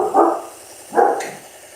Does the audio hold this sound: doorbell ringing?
no